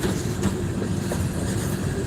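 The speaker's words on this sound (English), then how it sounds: "I heard the train in the distance" Distant train rolling past trackside at Mount Hope, West Virginia, a steady low rumble of rail cars that holds level and unbroken throughout, with no voices present.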